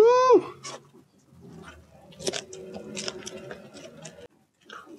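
Smoked Italian sausage being chewed close up, soft wet bites and squishy mastication in several bursts with brief pauses between them, and a short squeak at the start.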